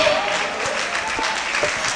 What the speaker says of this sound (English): let's clap our hands and with a shout ovation, welcome Anyonfe Oluwa Wole Ojo